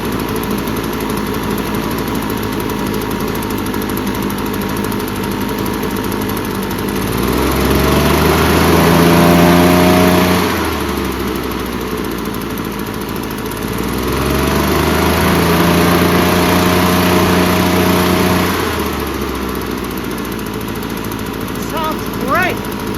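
A Husqvarna 150BT two-stroke backpack leaf blower, its piston damaged from running without oil, idles steadily and then revs up twice in long swells, loud and close throughout.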